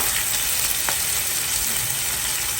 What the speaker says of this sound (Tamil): வெங்காயத்தை போட்டு வதக்குவோம்